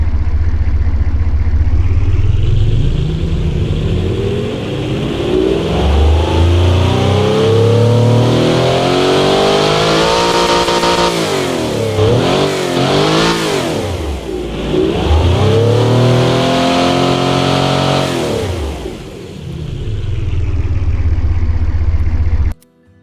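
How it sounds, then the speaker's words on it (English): A V16 car engine starts, then revs up and down repeatedly in loud, rising and falling sweeps before settling and cutting off, heard close with no voices. "the idle sound of V16 is beautiful"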